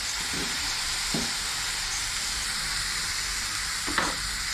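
Chicken pieces searing in a hot pan over high heat for a ginger mango chicken curry, with a steady close sizzle and a few brief pops and scrapes.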